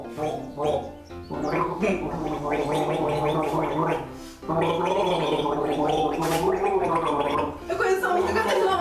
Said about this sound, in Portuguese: vai colocar gargarejo, vai cantar uma música e a outra pessoa tem que descobrir